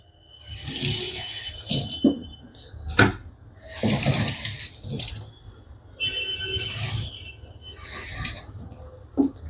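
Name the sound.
tap water filling a bottle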